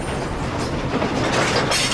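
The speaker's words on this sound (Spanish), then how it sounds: "E incluso este tren y los raíles sobre los que se desliza son elementos fundamentales en mi historia." A train runs along African rails on a line still in use for hauling copper and other minerals, giving a loud, steady rumble with continuous wheel clatter throughout and no voices.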